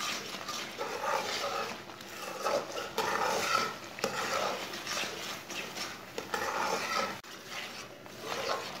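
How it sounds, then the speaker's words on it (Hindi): Jam cooking with lemon juice is stirred with a spoon in a pot, a continuous close scraping and bubbling texture with faint clinks running for several seconds, no talking. "दोबारा इसे चम्मच चलाते हुए पकाना।"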